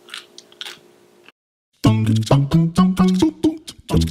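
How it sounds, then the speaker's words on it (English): A crunchy lunch sandwich is bitten and then chewed up close. Faint mouth sounds come first, then a short silence, then a loud series of crisp, rhythmic crunches. "now I'm gonna give the sandwich a try. Oh no. That is crunchy."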